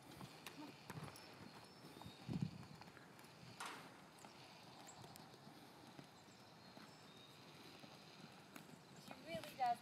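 A horse under saddle trots, its hoofbeats soft and rhythmic clip-clops at a moderate distance, heard under a person talking steadily.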